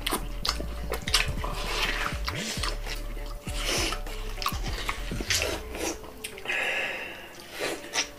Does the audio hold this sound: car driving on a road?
no